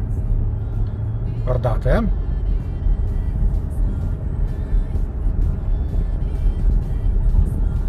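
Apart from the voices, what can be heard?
car re-accelerating on a winding road with adaptive cruise control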